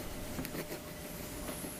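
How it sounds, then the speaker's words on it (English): A train rolls along its track on a long ride out of the city, with a steady rumble and faint periodic clicks from the wheels, close and continuous, with no talking. "the meditative sound of the train clicking on the track"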